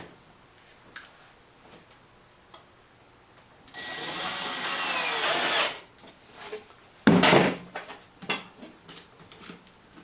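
A power drill drives small wood screws into wood during work on a homemade tiller boat motor steering linkage: one sustained whirring burst of about two seconds, a shorter burst soon after, then scattered light clicks and knocks.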